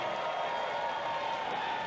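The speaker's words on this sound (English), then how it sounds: "This crowd amped up for Indi Hartwell" A wrestling crowd at a House of Glory women's title match roars and applauds for champion Indi Hartwell, a steady, dense wall of cheering and clapping that holds loud throughout.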